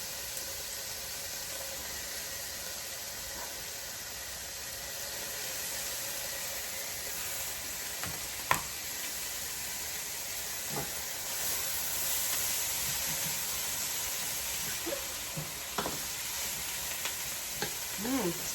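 Mushrooms for an egg scramble fry in a pan with a steady, soft sizzling hiss, broken by occasional small pops and utensil clicks.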